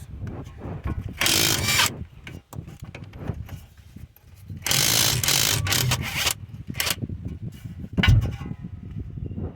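A ratchet works loose two 21mm strut bolts on a 2009-2017 Chevy Equinox, coming in close, loud bursts of rapid mechanical clicking separated by short pauses.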